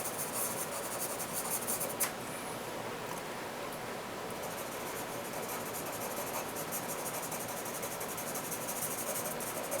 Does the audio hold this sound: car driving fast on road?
no